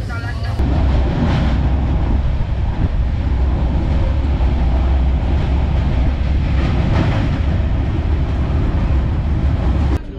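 A train crosses the Godavari river in India, a loud, steady rumble and rattle of wheels and carriages running continuously from start to finish.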